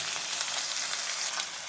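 Onions frying in a pan for munagakku sambar give a dense, steady bright sizzle, close and even throughout the short stretch, with no voices.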